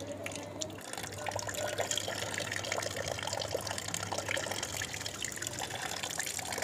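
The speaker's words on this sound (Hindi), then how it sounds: "तो इस तरीके से आपने इसको छानना है धीरे धीरे करके" Whey strains off curdled milk for rasgulla, giving a steady, close trickle and splash of liquid through a strainer that runs continuously without talk.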